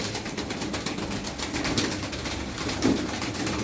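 Pigeons coo steadily while pecking at scattered feed, a dense close chorus of throaty calls with no talking.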